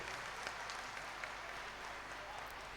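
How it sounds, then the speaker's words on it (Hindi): An audience claps steadily and densely throughout at a religious discourse event, a continuous wash of applause heard at a moderate distance. "जोरदार तालियां आप सबसे।"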